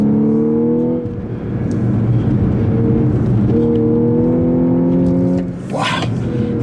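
A car engine revs hard on a very tight track held mostly in second gear, the pitch rising and falling through several long loud pulls with a brief lift between them, close and continuous.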